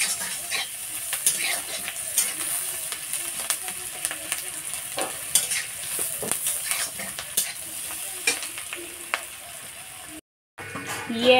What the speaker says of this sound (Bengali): পিঁয়াজ রসুন আর মরিচ ভাজা হচ্ছে ভালো করিয়া লাল করে ভাজি তো